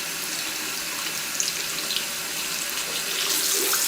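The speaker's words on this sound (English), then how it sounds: "We're just going to run this underwater for a while" Tap water runs in a steady, unbroken rush over a film developing tank during a rinse, a close, even splashing stream with no voices.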